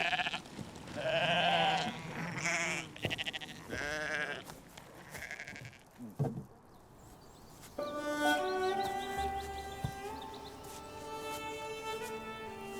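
Sheep in Scotland bleat repeatedly, several wavering calls close by, followed by a steadier tonal stretch with faint bird calls in the background.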